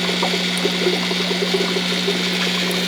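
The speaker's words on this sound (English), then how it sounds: "dump them into their fry tray for them to grow out" Water carrying baby fish is poured into a fry tray, a steady close trickle and splash over a constant electrical hum, with no talk.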